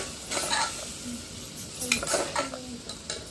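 Tomato is mashed and stirred in a pan for a bean curry served with chapati, a steady scraping and squishing with light sizzle and a few clinks of the spoon against the metal.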